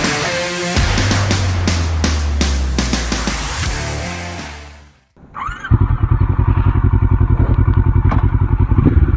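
A Kawasaki Versys 650 middleweight adventure bike revs loudly, then drops away to near silence for a moment before its engine returns with a rapid, pulsing idle-like throb close by.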